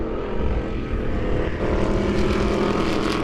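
Race cars in a heat race at Lebanon I-44 Speedway make a loud, sustained engine roar, a dense droning blur of several motors close by.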